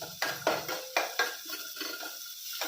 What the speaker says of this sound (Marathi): ते तेल गरम झालं आहे, त्याच्यात आपण हा कांदा टाकूया.